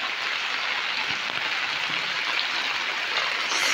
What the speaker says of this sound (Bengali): দেখতে পাচ্ছ বৃষ্টি কত পড়ছে